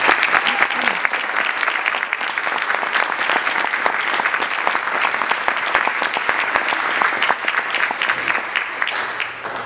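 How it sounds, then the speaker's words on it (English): Audience at a school percussion ensemble concert claps for nearly ten seconds, a loud, continuous, crowded wash of hands that tapers slightly near the end, with no voices over it. "So I would like to give a round of applause to Mr. Chris Schumann."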